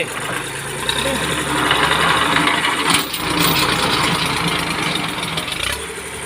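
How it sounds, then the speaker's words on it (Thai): A Kubota L2000 small tractor engine revs and chugs up close in fourth gear with the PTO engaged, its rough mechanical rumble rising and falling, with a voice speaking over it. "เร่งเครื่องดิ"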